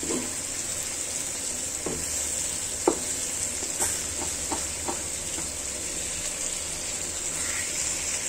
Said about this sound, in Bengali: এভাবে আমি এটা পানিটা শুকানো পর্যন্ত এটা নাড়তে থাকবো।